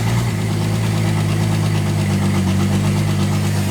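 A 1964 Ford Ranchero engine runs with no exhaust fitted, a loud, raw, steady mechanical drone with strong low rumble and constant vibration, heard close up and alone.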